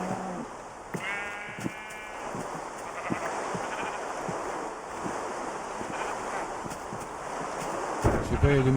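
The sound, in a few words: sheep bleating in a video game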